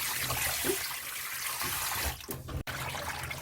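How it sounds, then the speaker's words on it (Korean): Glutinous rice being rinsed under running water, a soft steady flow and splash of tap water with a brief clatter and pause near the end, fairly quiet and close. "찹쌀을 이렇게 그냥 몇 번 헹궈서 물에다가 담가 놓을 거예요"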